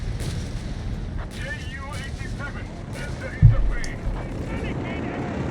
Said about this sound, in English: sounds like a smoke barrage up north is an incendiary bomber